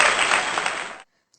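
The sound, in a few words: class applause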